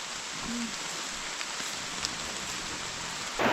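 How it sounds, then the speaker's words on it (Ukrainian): Heavy rain falls in a forest, a dense steady hiss of drops on leaves and ground, constant and enveloping, with a brief faint tone near the start and a louder burst of rustle at the very end. "Ох і дощака, да?"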